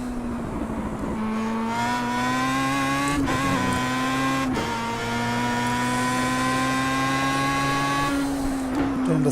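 A Star Mazda race car engine howls at full throttle in the iRacing sim, a loud, sustained high-pitched whine rising steadily through the gears with brief shift breaks, while a commentator talks over it.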